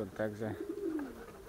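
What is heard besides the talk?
pigeons cooing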